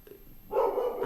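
A small dog named Luna barks indoors, a burst of yappy barking that starts about halfway through and continues steadily at close range, with no one talking over it.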